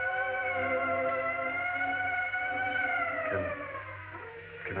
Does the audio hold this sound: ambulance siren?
yes